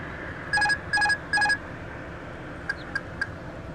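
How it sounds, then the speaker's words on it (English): Airbus cockpit autopilot disconnect alert: three loud, evenly spaced tonal chimes, then three fainter short repeats, all over a steady low background hum. "that's the sound that the Airbus cockpit makes when you disengage the autopilot"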